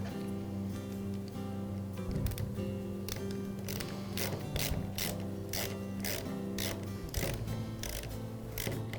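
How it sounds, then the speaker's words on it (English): Rope being pulled through a chainsaw recoil starter during repair, giving a continuous faint mechanical ratcheting with a series of regular clicks, no speech. "I'll pull the rope through until I have a small mount left at the end to secure the screw."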